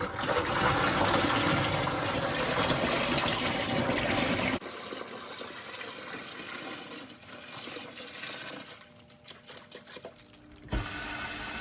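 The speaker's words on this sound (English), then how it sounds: "we're going to add the grape juice into the bucket." Grape juice for homemade white wine pours into a bucket, a loud rushing liquid stream that stops partway, followed by quieter trickling, sloshing and a few soft knocks.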